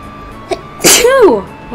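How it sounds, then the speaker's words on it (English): One loud, close sneeze bursts out after a short intake of breath. "that was a big sneeze"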